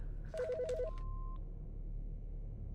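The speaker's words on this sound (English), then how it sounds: "The fucking phone." A telephone rings with a short, faint electronic trill that ends in a brief held tone over a low background hum, with no one speaking.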